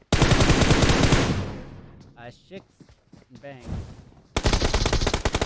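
Rapid automatic gunfire bursts from a PUBG Mobile match, loud dense volleys opening and closing the moment with scattered shots between, while a commentator talks over the action.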